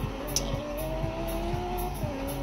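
Car engine in a video game drones steadily with a rising tonal whine, with faint rhythmic thumps roughly every half second running underneath throughout.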